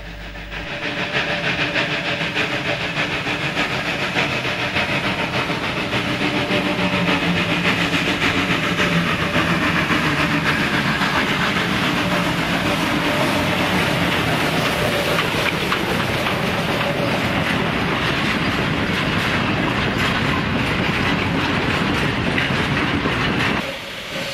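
A Polish class Ty45 2-10-0 steam locomotive hauling a train, a loud, dense, continuous rumble with rhythmic clatter of wheels over rail joints, sustained for over twenty seconds before cutting off, no talking.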